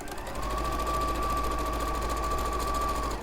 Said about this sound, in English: let me just quickly sew that one back